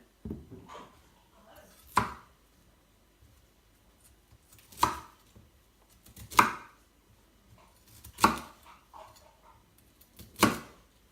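Five sharp knife chops through broccoli on a cutting board, spaced a couple of seconds apart, crisp and close with quiet pauses between.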